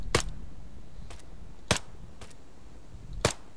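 Sharp sniper rifle shots in ArmA 3 crack out one at a time, three stronger reports and a couple of fainter ones spaced irregularly over a quiet background.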